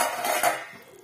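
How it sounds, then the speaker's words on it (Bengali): Lid lifted off a cooking pot of muri ghonto, a short loud metallic clatter and scrape up close that fades quickly. "ঢাকাটা খুললাম।"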